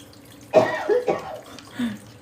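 A person coughs several times up close, a harsh first cough followed by softer, rougher ones, with no talking.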